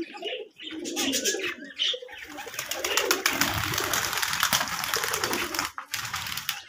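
Giribaz pigeons at a pigeon farm in Rajshahi coo steadily and close by, with a few chirps mixed in, over continuous background noise from the farm.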